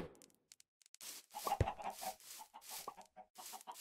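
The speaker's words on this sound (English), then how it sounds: "This is getting crowded with chickens, though." Crowded chickens in Minecraft VR cluck in short overlapping bursts, starting with a few faint ticks and then growing into busy, close clucking with no voices.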